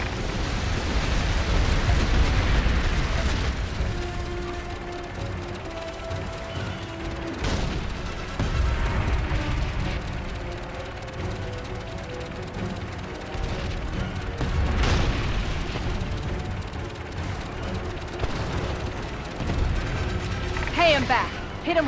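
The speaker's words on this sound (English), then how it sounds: "Use your torpedo rockets on those ships." Torpedo rockets striking ships in World of Warcraft, heavy booming blasts recurring over a dense roar of battle and machinery, with voices speaking through the din.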